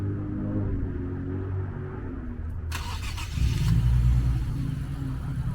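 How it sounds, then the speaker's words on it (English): An Infiniti Q60 with a turbo engine, already warmed up, starts with a brief whir and then idles close by before revving up into a louder, sustained roar. "I can also show you what the turbo sounds like."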